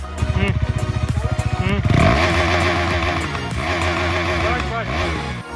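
A motorbike pulls out of water in Polo Forest, Gujarat, its engine chugging in a steady pulsing rhythm, then revving louder and rougher as it climbs out, close by, with voices talking over it.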